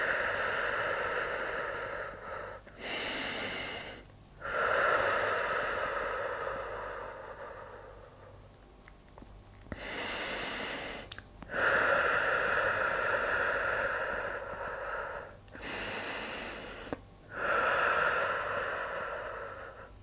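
Slow, steady breathing during a beginner Pilates mat routine: several long, airy inhales and exhales close to the mic, separated by short pauses, with no talking.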